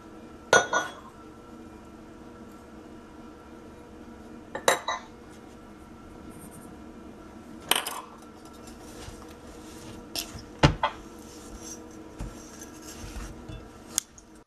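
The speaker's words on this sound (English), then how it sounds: "Mix all of your ingredients together until the dough is smooth." Peanut butter cookie dough is stirred in a bowl, giving a soft continuous scraping with repeated sharp clinks of a utensil against the bowl, close and fairly clear.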